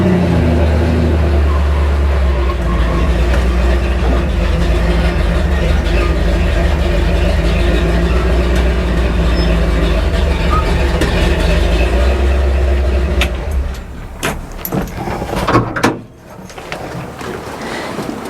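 A 1972 GMC 3500 wrecker truck engine runs as the truck is moved, a loud, steady low rumble that holds for about thirteen seconds before easing off into a few scattered clunks and knocks.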